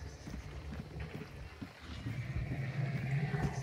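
Horse whinnying in the Hunt: Showdown video game, a breathy neigh amid rumbling game ambience and low noise, moderately loud and continuous.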